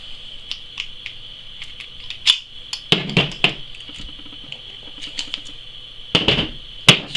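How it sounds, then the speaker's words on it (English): An airsoft gas blowback gun has its barrel removed, producing a sparse series of small sharp metallic clicks and taps, close and moderately loud, over a faint steady hum. "So we're going to start by taking the barrel out."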